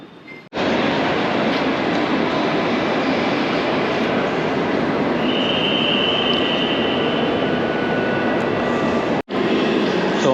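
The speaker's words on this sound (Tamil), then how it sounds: "ஸோ இதெல்லாம் வந்து லோக்கல் ட்ரெயின்ஸு." A Berlin local train runs through a station for several seconds, a loud, steady broadband roar with a faint high whine partway through, cutting off abruptly near the end.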